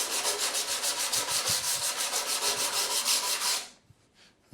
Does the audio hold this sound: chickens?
no